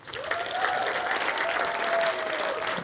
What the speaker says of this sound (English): Let's have a huge round of applause, please, for Landman.